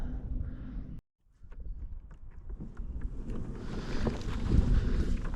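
Steady wind buffeting on open water while bass fishing from a boat near docks, a continuous low roar of microphone wind noise that dips out briefly and then grows louder and gustier, with no talk.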